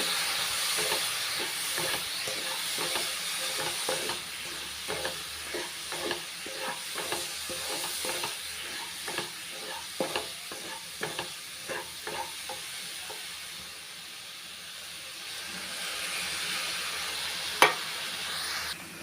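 A spoon stirs coconut rava laddu mixture as milk is added, giving repeated soft scraping and sloshing strokes in a steady rhythm over a faint sizzle, with one sharp clink near the end and no talking.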